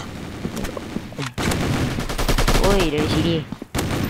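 Rapid bursts of automatic gunfire from a Call of Duty-style mobile shooter, Strike Ops, crackle loudly and repeatedly in close succession, with players calling out over the shooting.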